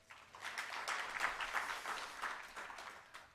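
Audience applause at a hydrogen masterclass event, a steady wash of many hands clapping at moderate, even level for several seconds without speech.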